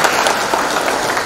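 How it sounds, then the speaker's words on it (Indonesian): An audience at an Indonesian government ceremony claps together, a brief dense wash of applause at fairly loud level with no distinct individual claps standing out. "Tepuk tangan buat kita semua."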